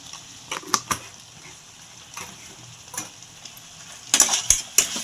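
Spoon stirring coriander powder and garam masala into a crab curry in a pan, giving soft scraping strokes and light clinks over a quiet sizzle, with a louder burst of scraping near the end.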